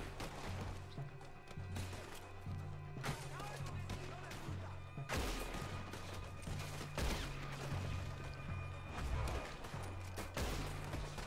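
Cannon fire in Red Dead Redemption 2 on Guarma pounds in heavy, repeated booms and crashes layered with gunfire and a rhythmic musical score, while a voice talks over the battle.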